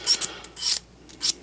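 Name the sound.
sandpaper sanding edges of an arrow nock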